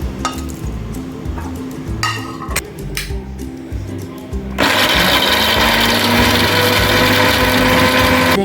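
Electric grinder starting up halfway through and grinding whole spices such as cinnamon, cloves, dried red chillies, star anise, cardamom, nutmeg and mace, a loud steady whir after quieter clinks and handling noises.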